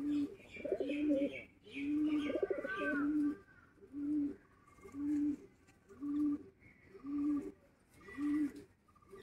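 Pet pigeons coo close by in a repeated rhythm of about seven low, rounded coos, with faint chirps and soft rustling between them.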